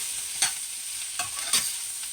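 Portobello mushrooms sizzle steadily in a hot pan, with three scraping stirs of a utensil, close and clear, and no voices.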